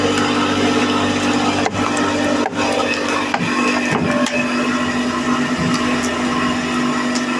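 A log splitter fitted with new blades runs with a loud, steady motor drone throughout, while a few soft clunks mark the ram moving and retracting.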